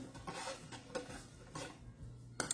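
A spoon scrapes and clinks around a pot while stirring rice with lime juice, a few quick close scraping strokes with a light metallic knock at the end.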